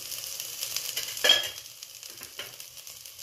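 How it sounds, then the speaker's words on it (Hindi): Aubergine sautés in a pan with a soft, steady sizzle and faint stirring scrapes close by, a brief louder clatter partway through and no talking. "तो हम इसको अभी ऐसे ही सॉटे करेंगे जब तक ये सॉफ्ट ना हो जाए।"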